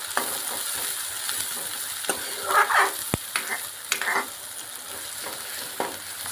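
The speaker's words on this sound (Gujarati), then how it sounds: "હવે આને ધીમા તાપે આપણે આને તેલમાં સાંતળી નાખીશું" Onion sautéing in oil over low heat in a pan, a steady soft sizzle with a few louder stirring scrapes and clinks of a utensil close by, no voices.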